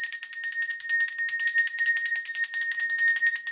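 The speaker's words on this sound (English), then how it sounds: "You use the maraca or you use the bell." A hand bell rings continuously, a bright, rapid metallic jingle shaken steadily at close range and fairly loud, with no talking over it.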